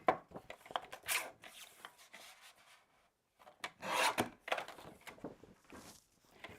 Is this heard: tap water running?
no